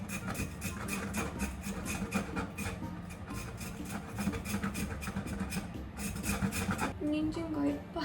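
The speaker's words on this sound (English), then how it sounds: "We're gonna use a grater to make it smaller pieces, and it's super bendy" Carrot pushed against a hand grater, a close, rapid rhythmic rasping of repeated strokes that runs steadily for several seconds, with no talk over it.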